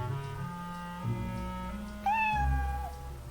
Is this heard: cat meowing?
yes